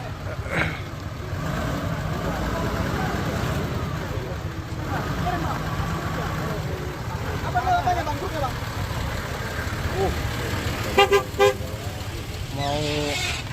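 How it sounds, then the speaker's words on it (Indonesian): A Toyota Land Cruiser idles with a low steady rumble while its horn gives a few short toots, the honks coming up clearly near the end over the engine, with people talking nearby throughout. "Ini mobil Land Cruiser ya bosku."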